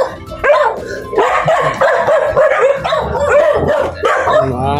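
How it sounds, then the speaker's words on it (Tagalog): Several pet dogs bark loudly and close by in overlapping bursts, with yips and whines and near-constant barking throughout. "Mga alaga yung aso. Daming aso."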